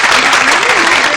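Loud, dense applause from a crowd, a steady wash of clapping that fills the whole short burst, with a voice briefly audible underneath.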